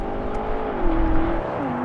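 A BMW M8, Audi R8, Mercedes-AMG GT 4-door, Porsche 911 Carrera 4S and Tesla Model X accelerate hard in a drag race, engines roaring, pitch climbing then dropping briefly with a gear change, loud and steady throughout.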